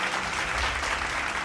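Steady applause from a graduation ceremony audience, dense and continuous, filling the whole moment without speech over it.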